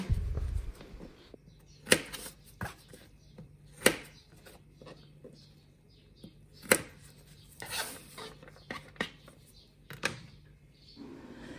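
A knife cuts asparagus spears into pieces on a board. About eight to ten sharp, separate chops land at an irregular pace over a quiet background.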